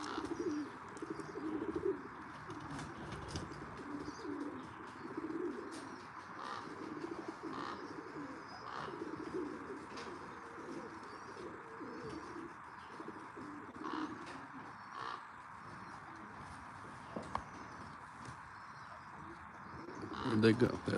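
Racing pigeons at their loft coo in a low, steady murmur that runs continuously under outdoor background noise, with a louder flutter near the end.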